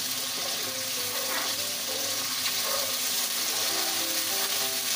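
Onions sizzle and fry steadily in a pan for Balochi chicken karahi, a continuous close crackle with faint stirring, no voices.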